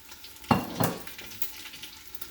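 Wontons frying in hot oil as they crisp brown at the edges, with two sharp stirring or splashing bursts over a low, steady background sizzle.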